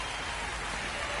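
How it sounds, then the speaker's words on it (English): Steady rain falling in the baseball video game MLB The Show 26, a dense, even hiss across the whole short stretch with no voices. "the rain's still a factor here"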